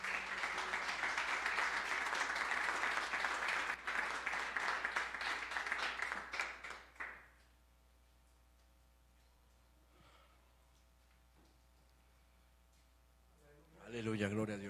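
A church congregation gives an offering of applause during a worship service, loud dense clapping for about seven seconds that cuts off sharply, followed by quiet room tone and a loud burst of sound at the very end.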